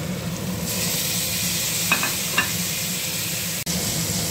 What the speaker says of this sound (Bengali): হলুদ দিয়ে দেবো, দিয়ে আলুটা ভেজে নেব। ভাজা হয়ে গেছে, দিয়ে দেবো টমেটো।